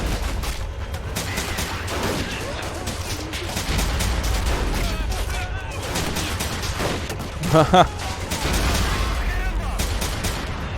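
Sustained exchanges of rifle and machine-gun fire crackle and thump densely throughout a WWII battle on Saipan in the game Men of War: Assault Squad 2, with a low rumbling bed beneath and someone talking over it.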